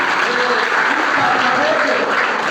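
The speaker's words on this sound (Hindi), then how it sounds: "नहीं आ पाए तो बहुत जोरदार तालियां" Loud, dense applause from a crowd fills an annual school exam-results ceremony at Jwala Devi Civil Lines, a steady unbroken wash of clapping.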